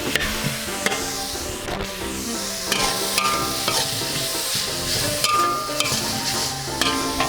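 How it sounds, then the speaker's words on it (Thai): Minced pork and onion stir-fried in a pan, a continuous sizzle with repeated scrapes and clacks of a spatula stirring, close and fairly loud with no voices. "ใส่หมูสับลง แล้วก็ใส่อันหัวหอมลง หอมใหญ่ลง ับไปเรื่อยๆ เนาะ"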